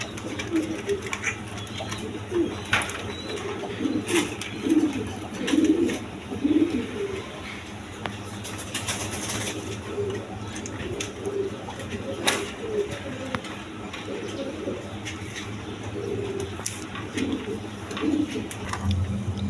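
Pigeons coo repeatedly in low, rhythmic calls at a pigeon seller's stall, with a light bird chirp here and there and steady background noise throughout.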